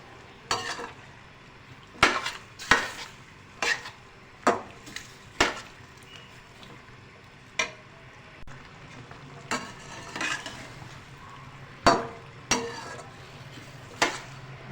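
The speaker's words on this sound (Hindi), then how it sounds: "अब हम ये डाल के इसकी भुनाई करेंगे, नींबू और लहसुन अदरक का पेस्ट।" Chicken gizzards frying with lemon and ginger-garlic paste, a spoon knocking and scraping the pan in sharp, irregular strikes over a soft, continuous sizzle.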